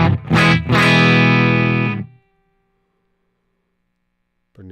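Electric guitar played through a white boost pedal into a stock amp cab, a distorted strummed chord and quick hits ringing out for about two seconds before decaying to silence, with a brief new attack at the end.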